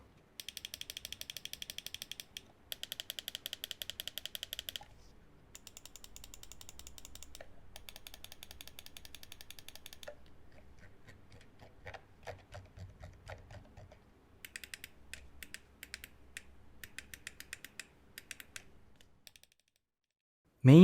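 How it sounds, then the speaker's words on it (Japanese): Main buttons of a SteelSeries Prime Wireless mouse with Prestige OM magnetic optical switches clicked close up, sharp crisp clicks fired in quick bursts separated by short pauses, with no talking. "ボタンについて、まずはクリック音を聞いてみましょう。"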